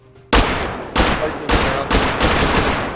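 An AK rifle in Rust opens up with loud automatic bursts, several long volleys of rapid shots back to back, as a voice speaks briefly over the firing.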